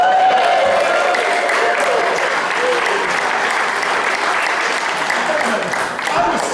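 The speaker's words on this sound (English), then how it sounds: "the fact that she got through that, have a round of applause" Reunion audience at a 30-year high school class reunion breaks into sustained, loud applause filling the room for several seconds, with some voices and cheers mixed into the clapping.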